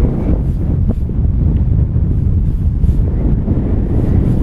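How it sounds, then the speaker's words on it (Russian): Strong wind buffets the microphone in a steady low roar for the whole stretch, outdoors by still water while spring fishing for zander with soft plastic lures, with no voices. "Ветер чересчур."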